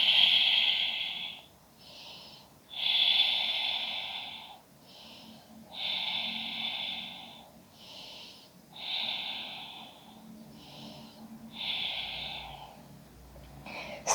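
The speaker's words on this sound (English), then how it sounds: "Stay here for 5 breaths." Slow, steady breathing while holding a yoga pose in a basic back-bending flow, five long rhythmic breaths with audible airy inhales and exhales, close and quiet with no talk.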